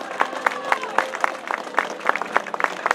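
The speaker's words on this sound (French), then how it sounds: "On peut l'applaudir bien fort, Francis Mouret" Crowd applauding a cyclist, leader of the Coupe de France, at a cyclo-cross race in Sisteron: scattered outdoor clapping with distinct hand claps in an uneven rhythm, moderately near, under a faint background of voices.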